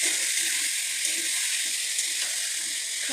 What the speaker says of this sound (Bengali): মাংসগুলো একটু ভেজে নেব।